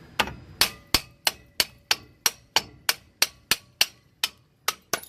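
A hammer taps a brake part loose on a Ford truck, about fifteen sharp metallic knocks at a fairly even rhythm over five seconds, close by and moderately loud, with no voices.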